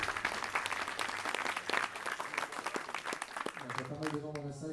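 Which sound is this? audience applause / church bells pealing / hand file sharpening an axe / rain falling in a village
audience applause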